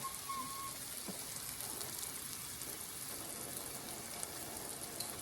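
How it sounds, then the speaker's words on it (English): Quiet, steady sizzle of a taco searing in a hot pan, a soft continuous crackling hiss with no speech over it. "We're going to let it sear for a minute."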